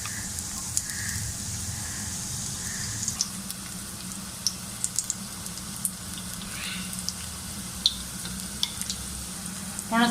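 Dahi bhalla batter frying in hot oil over a low to medium flame, a steady soft sizzle running throughout with small scattered pops and light clinks of a utensil.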